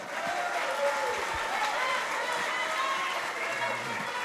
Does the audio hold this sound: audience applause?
yes